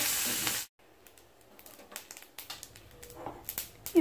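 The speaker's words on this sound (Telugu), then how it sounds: "1 సెకండ్ వేయించాలి." Curry leaves, turmeric and asafoetida frying in hot oil for an onion chutney tempering: a loud burst of sizzling that cuts off, then fainter crackling and spitting pops.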